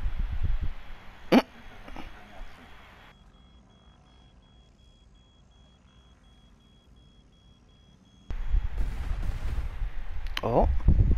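Two sharp explosive blasts of drones blowing up in The Division 2 on PS4, one early and one near the end, separated by a long, nearly silent stretch.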